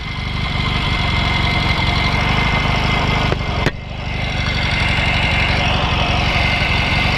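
A 1963 Royal Enfield Interceptor 750cc motorcycle engine idles close by in a steady, loud, even rumble, with a brief dip partway through.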